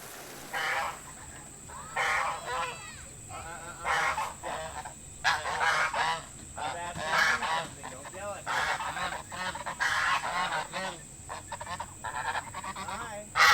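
Several geese honk repeatedly and excitedly, close by, their loud calls overlapping in irregular bursts against a faint steady hum.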